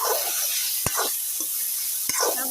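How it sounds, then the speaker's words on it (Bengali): Sago and vegetables frying in a pan for sago khichuri, a soft steady sizzle broken by a few scraping stirs of the spoon, close and fairly quiet, with no talking. "সাবু আর সবজিটা আমি একটু ভালো করে ভেজে নিই।"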